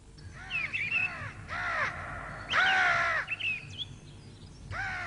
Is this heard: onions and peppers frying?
no